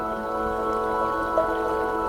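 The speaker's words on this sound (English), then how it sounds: "Water." A sonified space image plays as a steady, layered tonal drone with a soft watery texture, fairly loud and unbroken, with no voices over it.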